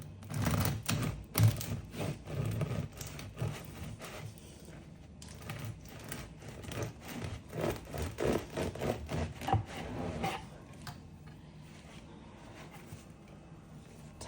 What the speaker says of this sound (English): We're gonna cut it open. Look at the belly.